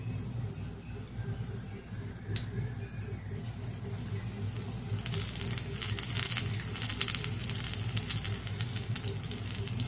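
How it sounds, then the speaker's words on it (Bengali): Green chilies fry in hot oil, a low crackle that swells into a louder, denser sizzle halfway through. "ওই জন্য আমি এটা লঙ্কাও ভেজে নিচ্ছি।"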